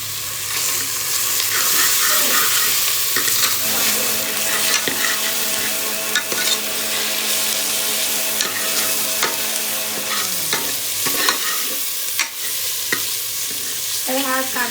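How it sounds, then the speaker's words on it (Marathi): Onions frying and being stirred in a pan for pav bhaji with tomato added, a steady broadband sizzle with occasional sharp scrapes and clinks of the spatula, continuous and close, with no talking. "कांदा मी पहिले चांगला फ्राय करून घेणार आहे"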